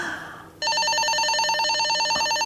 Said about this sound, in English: I just need to make a phone call.